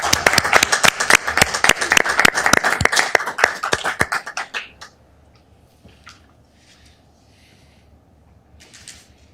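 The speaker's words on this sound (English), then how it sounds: "Round of applause." A small group claps briskly for several seconds, the applause thinning and fading out, followed by quiet room noise with a few faint rustles.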